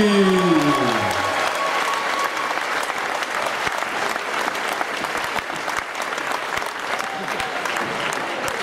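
Crowd at a boxing event in St. Ingbert gives a boxer's ring introduction sustained applause, dense clapping that is loud and steady throughout, with a voice over it at the start.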